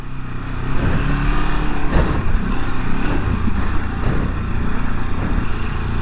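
A 2023 Ducati Desert X motorcycle rides and accelerates, its engine a loud, close, steady drone with rising throttle surges and wind rush throughout, and no voices.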